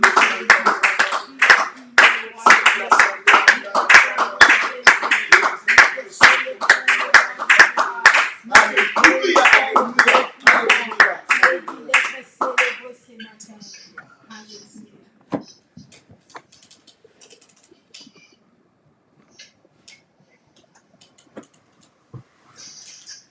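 A church congregation claps in acclaim during a worship service, loud dense clapping under voices for about twelve seconds, then thinning to scattered claps and quiet.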